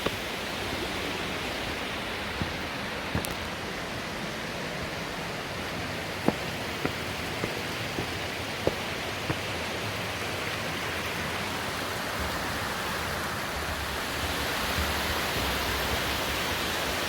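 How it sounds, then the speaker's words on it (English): Rust en Vrede waterfall near Oudtshoorn roars in a dense, unbroken broadband wash of falling water, loud and steady throughout with only a few faint clicks and knocks. "The roar of the waterfalls is getting louder."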